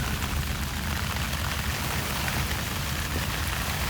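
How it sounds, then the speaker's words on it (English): Rain falls steadily on a tent at a cold 4 AM campsite, a dense continuous patter of drops close by, with no talking. "Just started to rain."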